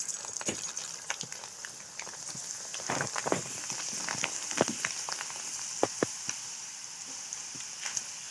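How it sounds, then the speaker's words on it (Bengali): Sago pearls fry in hot oil, giving a soft, steady crackle with scattered sharper pops. The sound is fairly close but quiet, and no one speaks. "দেখো এরভাবে সাবুগুলো সব দিয়ে ভেজে নিই।"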